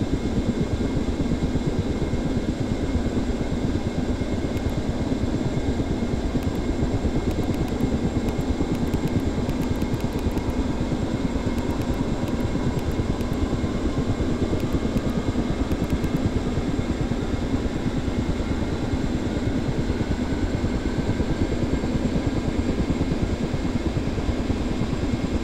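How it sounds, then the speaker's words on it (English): Ka-50 Black Shark 2 helicopter right engine spooling up in the DCS flight simulator, a steady loud turbine whine and rotor drone with a tone slowly rising throughout, no talk. "let's wait a moment for your right engine to spool up."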